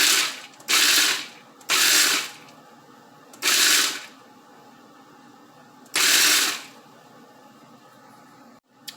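A food processor pulses through a pecan pie cobbler mixture in five short whirring bursts, each about a second long, with quiet gaps between them.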